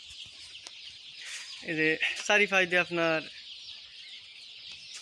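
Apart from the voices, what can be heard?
chicks clucking in a poultry farm shed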